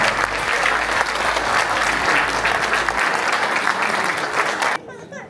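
Enthusiastic applause from the audience at a Canadian citizenship ceremony, dense sustained clapping close and loud that cuts off abruptly near the end, leaving a quieter room.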